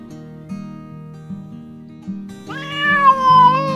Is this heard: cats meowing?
yes